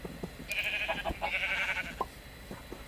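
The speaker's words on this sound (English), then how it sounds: "The sheep pen." Sheep in a pen in the video game Minecraft give a few short bleats, fairly faint, amid soft clicks and background sounds.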